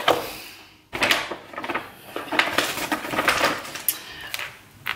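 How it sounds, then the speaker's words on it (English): Mushrooms chopped on a cutting board in a home kitchen, a close run of knife taps and clatters that begins after a short quiet start and carries on unevenly, with no voices. "Chop up some mushrooms."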